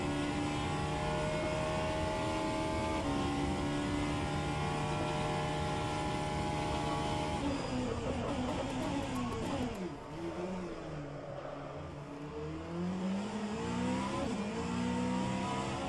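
Race car engine in the rFactor 2 sim, a Vanwall hypercar at Bahrain, droning loudly and continuously with rising and falling revs and gear changes as the car spins around, with no talk over it.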